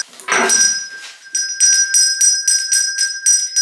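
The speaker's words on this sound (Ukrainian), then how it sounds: "Наші дзвоники бринять, вже запрошують малят." Small handbells ring at a children's centre, opening with one bright strike and then shaking into a steady run of repeated jingling rings, loud and close with no voices.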